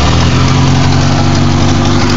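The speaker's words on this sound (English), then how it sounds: "how well this engine runs, because it surprised me how nicely it starts right up" A restored Bugeye Sprite's engine, revived after thirty years unused, runs steadily nearby with a loud, even idle rumble and no voices over it.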